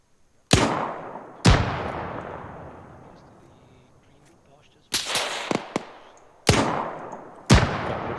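Grenade explosions and gunfire in the military shooter Arma 3: several loud, sharp blasts spaced a second or more apart, each trailing off in a long rumbling decay, with a quick cluster of shots in the middle.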